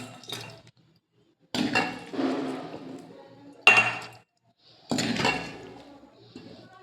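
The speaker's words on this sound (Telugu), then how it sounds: "ఇప్పుడు మనం చక్కగా మంచి క్లీన్ జార్లో చికెన్ పికిల్ని జార్లో వేసుకుందామండి" Chicken pickle is spooned into a clean jar in several separate bursts of wet, clinking scoops, with short pauses between them.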